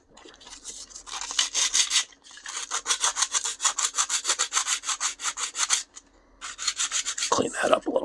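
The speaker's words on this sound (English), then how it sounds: "So I'm going to take a little piece of sandpaper." Sandpaper rubbed by hand over a 3D printed plastic crossbow part, a close, steady run of quick back-and-forth scraping strokes in rhythmic bursts, with short pauses between sets.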